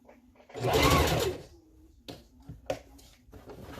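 A sewing machine runs in one close, loud burst of about a second while stitching a wig track, followed by quieter handling clicks and taps.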